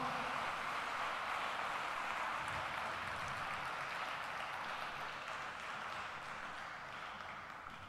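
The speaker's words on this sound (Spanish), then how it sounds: "Denle un fuerte aplauso al Señor." A church congregation applauds during a Spanish-language sermon, a dense, steady wash of clapping that fills the room evenly and tapers slightly toward the end, with no voices over it.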